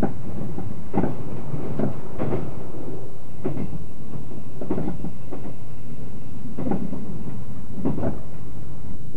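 A Yakumo limited express train runs through a mountain valley, heard from on board: a steady loud rumble with rhythmic clickety-clack thumps from the rail joints.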